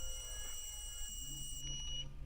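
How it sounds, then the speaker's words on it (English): Electronic beeping during a repair of a laptop that won't turn on: a thin, high, steady tone that persists throughout, fairly faint over a low background hum. "All I hear is beeping."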